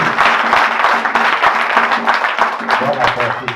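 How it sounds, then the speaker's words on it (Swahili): Church congregation at an ordination service applauding together, a dense, loud, continuous wave of clapping close to the listener that holds steady and fades slightly at the end. "Pigia maneno yetu makofi mazuri."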